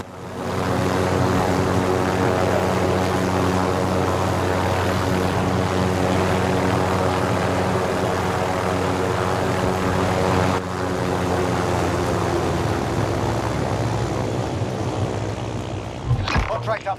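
A helicopter in the Call of Duty Modern Warfare Warzone video game gives a loud, steady rotor and engine drone that holds for most of the clip, with a brief shift near the end.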